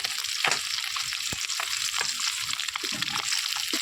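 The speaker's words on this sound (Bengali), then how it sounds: "এর মধ্যে আমি মাছটা দিয়ে দিয়েছি যে মাছটাকে আমি ভাজা করে নিচ্ছি" Small bata fish sizzle and crackle in hot mustard oil, a steady hiss with occasional pops and spatters, close and continuous.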